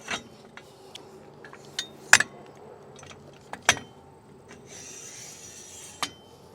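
Roadmaster StowMaster tow bar arm being drawn back, a few sharp metallic clanks and ratcheting clicks spaced apart, close and fairly loud against quiet.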